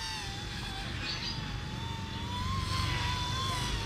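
Eachine E120 RC helicopter with a single main rotor spinning fast at its speed 3 setting, a steady high-pitched whine with a sustained buzzing drone, close and continuous throughout without talk.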